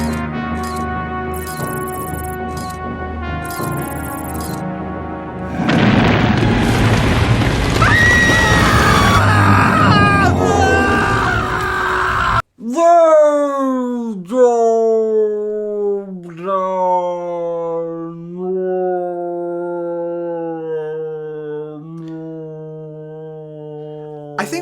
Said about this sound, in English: they took a bit of normal speed screaming and placed it over a slowed down bit of him being dragged through the cave